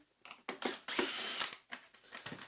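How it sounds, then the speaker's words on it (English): Screws being undone on a Neato Botvac D80 robot vacuum during a repair: close, quiet ratcheting and scraping clicks in short uneven bursts, with brief pauses between turns. "then we'll undo these two screws here"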